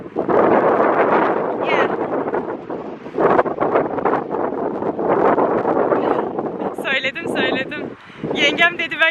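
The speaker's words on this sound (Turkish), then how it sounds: "Arkadaşlar çok rüzgarlı." Heavy wind buffets the microphone with loud, rumbling roars that swell and ebb, while voices talk over it toward the end.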